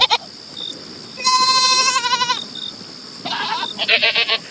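A startled goat in a barn bleats loudly and close by, two wavering cries, the second breaking into a quick stuttering bleat, set against a faint steady background tone.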